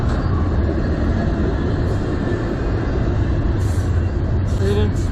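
CN locomotives haul an intermodal freight train past in Sarnia, Ontario, producing a loud, steady low rumble and rolling roar throughout, with strong wind buffeting mixed in.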